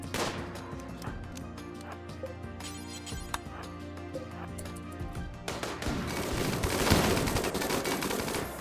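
Rifle gunfire in the game RimWorld comes as rapid bursts and scattered shots over a layer of background music and game effects, growing denser and louder toward the end.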